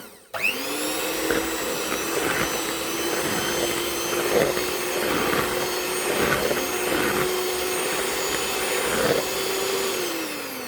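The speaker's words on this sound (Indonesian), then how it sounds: "setelah masuk tercampur, kita mulai mixer." Electric hand mixer whirring steadily through cake batter in a bowl, a loud continuous motor drone starting abruptly and holding for about ten seconds, with faint rhythmic scraping as the beaters move, no talking.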